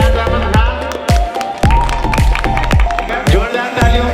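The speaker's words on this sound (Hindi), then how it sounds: "जोरदार तालियों से स्वागत करेंगे" A crowd at a charity event for a handicapped welfare society claps and cheers to welcome a guest, with dense rhythmic applause and sharp percussive hits throughout, loud and close, with a voice speaking over it.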